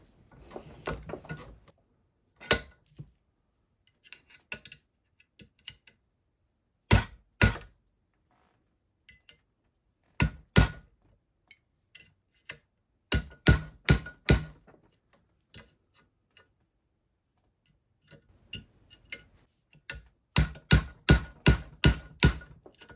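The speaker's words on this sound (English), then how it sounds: "All right, I'm going to hammer it on the seams." A hammer strikes the seams of a metal switchbox in a teardown, giving sharp metallic bangs in irregular bursts, some single and some in quick runs of four or five, separated by quiet pauses.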